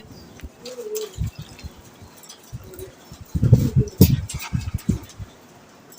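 Soft pigeon cooing in low, rolling bursts as the pigeons are given saline water, with scattered rustling and small knocks nearby, fairly quiet overall.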